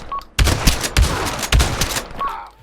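Pump shotgun blasts in the VR shooter game Pavlov VR, three loud booming shots spaced about half a second apart, each with a short echoing tail, and pump-action clicks at the start and end.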